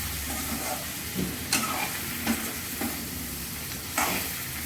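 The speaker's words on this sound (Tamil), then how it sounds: "இப்போ நம்ம காளானை போட்டுக்குவோம் காளானை போட்டாச்சு போட்டு அப்படியே நல்லா கிண்டிக்கங்க" Mushrooms for a mushroom pepper masala fry in a pan under a constant loud sizzle, with several scraping stirs of a spatula.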